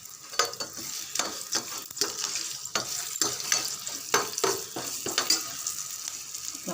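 Asafoetida powder hits hot oil for a buttermilk curry, giving a steady close sizzle broken by repeated scraping and stirring strokes, with no voices.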